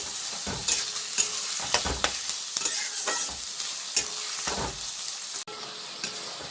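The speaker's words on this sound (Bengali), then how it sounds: "পেঁয়াজটা আমি মিক্স করে নিচ্ছি," Onions being stirred and fried in a pan for chicken kosha: a loud steady sizzle broken by repeated scraping stirs of the spatula at irregular intervals, close up with no voices.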